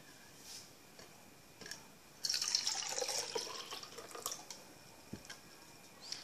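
A kitchen tap briefly runs into a sink after a few light drips and clicks, then trickles and drips again, quiet and close.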